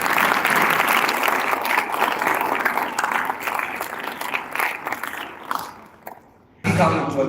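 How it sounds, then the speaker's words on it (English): An audience at a Gavel Club grand finale event claps in dense, sustained applause that gradually thins and fades, ending in a brief pause before a voice begins. "Can we all please give them a round of applause?"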